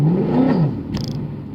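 A Mercedes-Benz W204 C63 AMG engine revs up and eases off with a faulty transmission, a loud droning sweep heard from inside the car, followed by a brief mechanical clatter.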